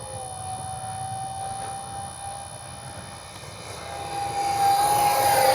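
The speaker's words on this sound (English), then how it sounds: "those twin 40 sounds so good in that small little plane" An X-Fly F-15 RC jet with twin 40mm electric ducted fans screams past as a steady high-pitched whine over a rushing roar, swelling louder toward the end.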